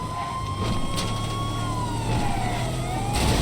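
Vehicle sirens wail in a video game, a continuous gliding tone with steady engine and traffic noise underneath, no voices.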